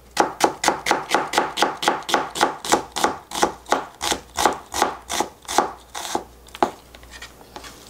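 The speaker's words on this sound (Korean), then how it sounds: "아주 곱게 채 썰겠습니다." A knife finely julienning half an onion on a cutting board, about twenty quick, steady chops in an even rhythm, close and crisp, slowing to a few last strokes at the end.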